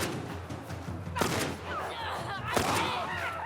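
Two sharp, loud gunshot blasts about a second and a half apart ring out in The Last of Us, each with a ragged echoing tail, over a low game ambience with a voice faintly underneath.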